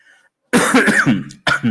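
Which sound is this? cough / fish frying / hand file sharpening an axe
cough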